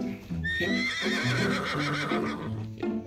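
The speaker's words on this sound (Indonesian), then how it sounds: "Nanti aku panggil kuda Tudor" Close, loud horse neigh sound effect, a long rising and falling whinny lasting a few seconds with rough, shaking tone.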